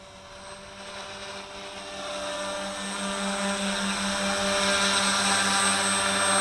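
WLtoys V383 quadcopter drone propellers whine in flight with a steady, loud, buzzing drone that builds slightly in strength as the aircraft climbs, with no talking.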